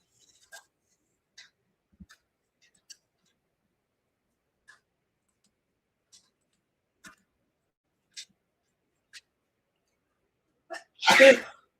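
A single sharp sneeze bursts out near the end of a quiet stretch at home, preceded by scattered faint ticks and small clicks.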